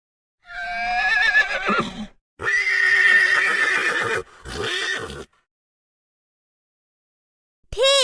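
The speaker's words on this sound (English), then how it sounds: "Horse." A horse neighs in three loud, close whinnies separated by short gaps, the last one briefer, followed by silence and a short unrelated tone at the end.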